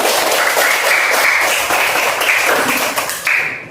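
A class of students claps for a few seconds in a dense, continuous patter, loud and close, fading slightly at the end.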